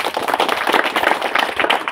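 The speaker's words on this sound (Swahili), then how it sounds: "So tupigie makofi NRT" Outdoor crowd at a community hospital project launch clapping in rhythmic, uneven bursts, close and fairly loud, with scattered individual claps throughout.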